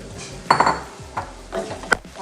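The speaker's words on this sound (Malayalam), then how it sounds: "നന്നായി ഒന്നിത് ഇളക്കാം" Egg masala with curry leaves and coriander is stirred in a metal pan, a spoon scraping and clanking against the pan in a few quick, close strokes over faint sizzling.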